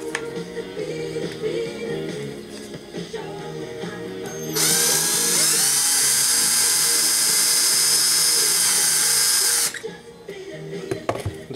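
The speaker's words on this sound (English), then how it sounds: "Now I'm going to drill through it and see how it reacts." A power drill whines high and steady for about five seconds as it bores through a sheet of styrene plastic for an HO scale car ferry model, close and loud, with quieter workshop handling before and after.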